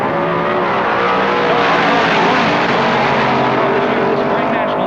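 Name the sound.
drag racing cars, Plymouth 426 Street Hemi, racing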